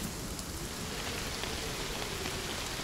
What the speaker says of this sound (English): Rain in the evening.